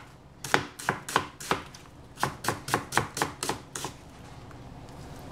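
Knife chopping onion on a board, about fifteen crisp, evenly spaced strokes close up, in two quick runs with a short pause between, no talking.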